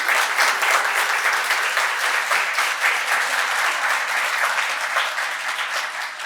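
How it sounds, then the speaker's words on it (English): An assembled audience gives a sustained round of applause for Timor-Leste Prime Minister Xanana Gusmão, the clapping thick, even and continuous throughout with no voices over it. "Let's give him a round of applause."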